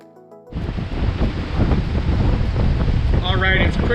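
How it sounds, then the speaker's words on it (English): Strong wind buffets the microphone on the deck of the cruise ship Coeur d'Alene on Idaho's St. Joe River, a loud steady rumble with water rushing beneath it and no talk. "it's pretty windy out here"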